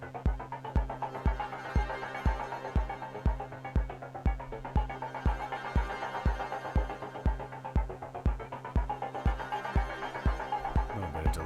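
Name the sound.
reverb effect added to synth audio track on Deluge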